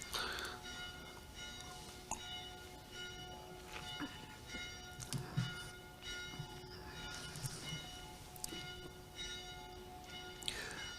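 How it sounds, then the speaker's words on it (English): Church bells in Paderborn ring steadily with layered, sustained tones and repeated strikes, fairly distant and moderately quiet, with a faint rumble of room or traffic noise underneath and no talking. "I will wait till the bells will have finished."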